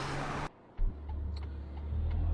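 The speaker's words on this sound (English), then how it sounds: "get away from this traffic noise" Road traffic on a country road beside a historic fort site: after a brief burst, a car engine hums past nearby and a second low vehicle rumble builds toward the end, steady and moderately loud with no talking.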